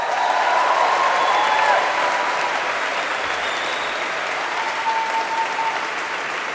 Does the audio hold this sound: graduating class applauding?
yes